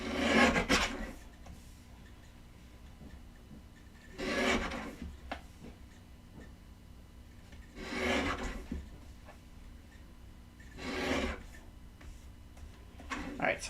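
Scissors or a paper trimmer cutting a paper word for a handmade pet-lover card, heard as four separate bursts of rasping, rubbing strokes spaced a few seconds apart, close by, with quiet pauses between them.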